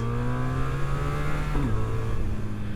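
A BMW R 1300 R motorcycle revs hard in first gear, its engine note climbing steadily and loud and close, with a quick dip and shift in pitch near the end.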